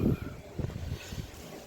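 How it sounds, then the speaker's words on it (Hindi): Wind blowing outdoors around a garden where a green shade net has been torn, heard as a rough, fluctuating low rumble with gusty buffeting against the microphone, fairly close and steady. "देखिए अभी भी हवा चल रही है"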